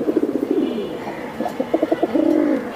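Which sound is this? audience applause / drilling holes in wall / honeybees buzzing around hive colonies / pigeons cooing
pigeons cooing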